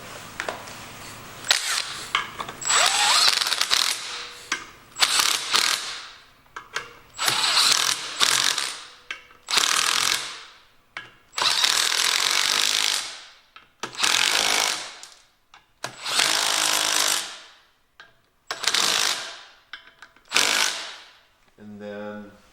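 A ratchet tightening the stator cover bolts on a 1971 John Deere 140 garden tractor: about nine long, loud bursts of rapid clicking pawl sound, each swing separated by short pauses, close up.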